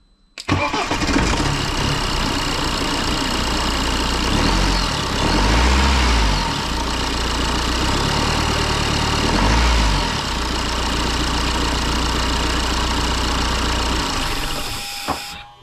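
A Volkswagen Eos car engine with a rattling timing chain starts up and settles into a steady, continuous idle, heard up close with a fine buzzing rattle over the low engine hum.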